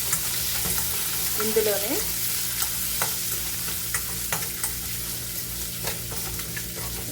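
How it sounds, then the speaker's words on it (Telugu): Ginger and garlic fry in a pan with a steady close sizzle, broken by periodic soft scrapes of stirring; a voice speaks briefly early on. "చిన్న అల్లం ముక్క ఇంచు, ఒక 6-7 వెల్లుల్లిపాయలు. వీటిని వేయించుదాం."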